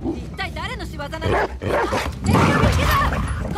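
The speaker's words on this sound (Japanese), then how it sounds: "ワンちゃん強すぎ。" In the video game The Last of Us Part II, an attacking dog snarls and barks in loud, frantic bursts, mixed with a voice talking over the action.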